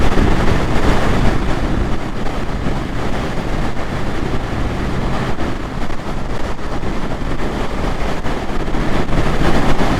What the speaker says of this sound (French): on a le vent qui est plein travers.